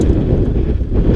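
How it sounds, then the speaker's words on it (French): Strong wind buffets the microphone during a mountain bike descent at the Chamrousse bike park, a loud, continuous low roar with no break. "Il y a pas mal de vent donc je pense que sur les sauts c'est un peu compliqué."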